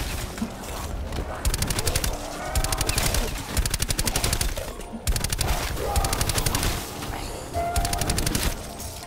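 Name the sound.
gunfire in Call of Duty Black Ops 4 video game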